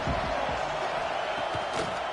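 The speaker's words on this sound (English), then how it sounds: "This crowd bringing the energy and noise early" Steady stadium crowd roar fills a College Football 26 video game broadcast, a dense continuous wash of cheering and noise with faint low thumps and no clear voices on top.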